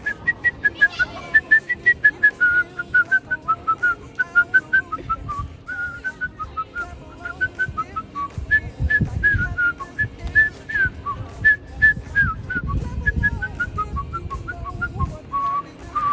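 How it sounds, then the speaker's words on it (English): A person whistles a cheerful, happy tune alone, the melody steady and clear with short phrases, near and moderately loud, with faint background rumble and no talk. "I kind of give you a little example of my whistling before I leave."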